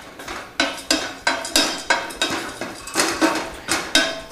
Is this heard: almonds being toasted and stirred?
yes